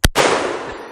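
A single loud, close gunshot cracks from a .44 Magnum Henry lever-action rifle fired at steel targets outdoors, its sharp blast trailing into a short decaying ring.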